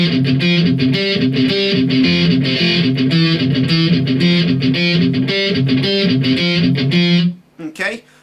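Distorted electric guitar plays the rhythmic verse riff of a song, loud and steady with chugging repeated chords for about seven seconds, then cutting off into a brief quiet tail.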